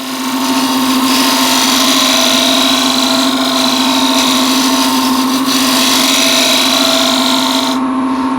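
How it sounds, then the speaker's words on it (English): Steady, loud whine of a woodturning tool cutting and smoothing timber on a spinning lathe, with a constant motor hum running unbroken throughout. "Now I need to true up or smooth up this part of the timber."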